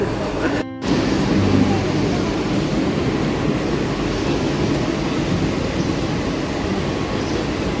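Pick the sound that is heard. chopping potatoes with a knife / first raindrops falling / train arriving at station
train arriving at station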